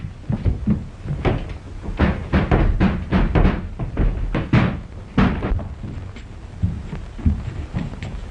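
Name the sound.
door being forced and broken in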